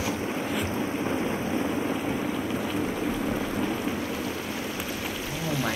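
Steady rain pattering on the ground in the video game The Last of Us Part 1, a dense broadband hiss that holds evenly throughout with no clear individual drops.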